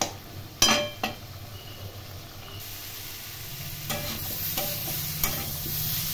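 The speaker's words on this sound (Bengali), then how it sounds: "এই সময় মিডিয়াম ফ্লেমে নেড়ে নেড়ে রান্না করে নিতে হবে" Cauliflower curry with masala is stirred in a pan over a medium flame, its soft sizzle running throughout while a spoon scrapes and clinks against the pan several times.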